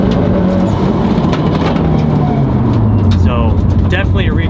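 A Mitsubishi Evo, the Tokyo Drift car with a fault that shows up only in third and fourth gear, drones along as a steady engine and road roar under constant broadband noise while a voice talks over it and rises in pitch near the end.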